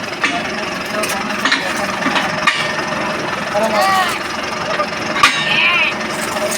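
A tractor engine idles steadily nearby as a trailer is coupled at a sugarcane-cutting field camp, a continuous low rumble with occasional knocks and clanks, while people talk over it.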